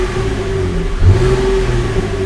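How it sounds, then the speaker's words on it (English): A 2015 Chevrolet Camaro 1LT with an NPP exhaust, flaps closed, revs inside the cabin. The engine climbs in a loud, steady drone with a brief deeper surge midway, and no talk is heard. "revving"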